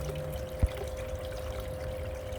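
Gravel and black sand from a DIY fluid bed sluice trap swirled with water in a gold pan for prospecting: a soft, continuous watery wash with one brief knock near the start, close by, with a faint steady hum and no talking.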